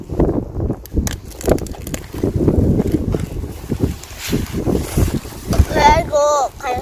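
Strong wind gusting and buffeting the microphone beside a stream, rumbling loudly in waves under a person speaking, with birdsong near the end.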